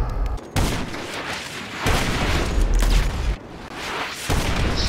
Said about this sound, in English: Oh, you're cheating using RPGs.